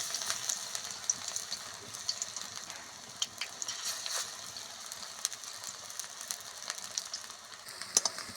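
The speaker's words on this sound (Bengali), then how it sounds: "তো একে একে বড়াগুলো ভেজে নিচ্ছি, একে একে দিয়ে দিলাম।" Drumstick flower fritters frying in a small amount of hot oil in a wok, a faint, steady sizzle with scattered small pops and crackles, no voices.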